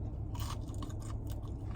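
Crispy Popeyes fried chicken tenders being chewed close up, a few quick crunchy bites over a faint steady background hum, with no talk.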